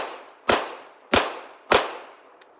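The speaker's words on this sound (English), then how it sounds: "But it's so fun to shoot, I'm gonna go ahead and keep shooting." Three sharp, loud shots from a Canik TP9sfx pistol, evenly spaced about half a second apart, each cracking and then ringing out briefly, followed by a faint small click.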